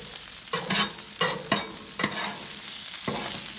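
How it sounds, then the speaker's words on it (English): Potatoes sizzle steadily on a Blackstone flat top grill outdoors while a spatula scrapes and turns them in about five quick strokes over the constant frying hiss. "Want to get these potatoes turned a little bit."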